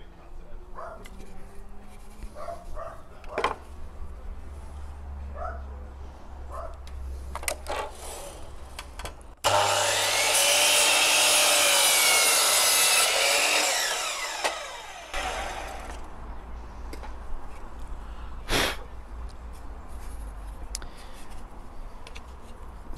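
A hand saw cuts a mitre in wooden skirting board, one burst of close, loud rasping strokes lasting several seconds, set between stretches of quieter workshop handling noise.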